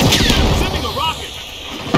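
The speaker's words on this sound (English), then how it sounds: "Sending a rocket." A rocket launches and detonates in The Finals, a booming blast with a rumbling tail over continuous game noise, loud and close across two seconds.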